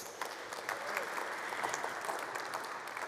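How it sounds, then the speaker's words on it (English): Audience at a startup pitch competition regional final in Berlin breaks into applause, a sustained crowd of clapping hands with a few louder claps standing out, heard fairly clearly. "All right, one round of applause,"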